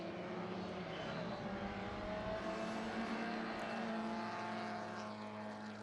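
Vintage saloon race cars from the Dan Gurney Saloon Car Trophy one-hour enduro at Laguna Seca, among them a Ford Cortina, drone past the commentary position. Their engines make a continuous, moderately distant roar with no talk over it.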